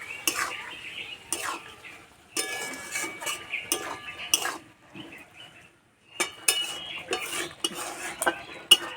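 A spoon stirs curry in a pan after coriander leaves, slit green chillies and garam masala go in, giving close clinks and scraping scrapes in short bursts separated by brief pauses.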